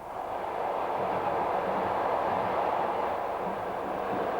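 Train travelling along the rails through former Polish lands, a continuous broadband rumble and rushing roar heard from inside, steady and moderately loud throughout.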